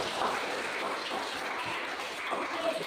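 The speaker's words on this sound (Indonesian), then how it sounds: "Tepuk tangan dulu untuk kita semua." Broad, steady applause filling a room during a church-sacrament lesson session, a dense even patter of many hands clapping throughout with no pauses, fairly distant and moderate in level.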